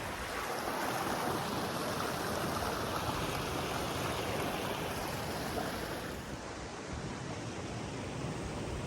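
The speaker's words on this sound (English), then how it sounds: "Following the cairns to get across this river." A river on a hiking trail rushes in a constant broadband wash, steady and fairly close, with no voices.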